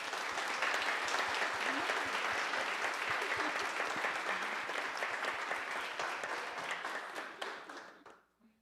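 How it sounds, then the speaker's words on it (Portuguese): A church congregation applauds with sustained, even clapping from many people that carries on at a steady level and fades out near the end. "damos um aplauso para"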